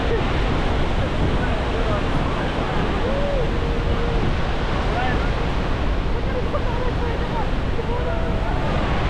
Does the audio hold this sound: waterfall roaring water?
yes